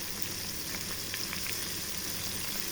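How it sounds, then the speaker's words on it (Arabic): Fish, coated in flour, frying in a small pan of hot oil, giving a steady close sizzle with fine crackling pops throughout. "انا عامله طاسه صغيره اللي بقلي فيها عشان ما تاخدش زيت كتير مني"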